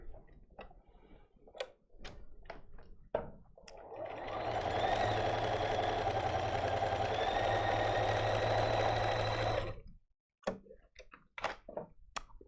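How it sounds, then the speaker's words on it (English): A sewing machine stitching a quilt placemat runs in one steady loud hum for about six seconds, framed by sharp clicks and taps of handling before and after. "we're going to sew"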